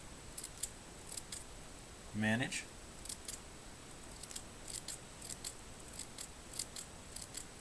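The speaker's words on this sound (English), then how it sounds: "I'm just going to take my scissors and come in from the top to cut down the length" Scissors trim dried field grass stems for a miniature wetland and swamp scene, giving several crisp, close snips scattered across the stretch and one louder cut near the start. A quiet voice speaks briefly.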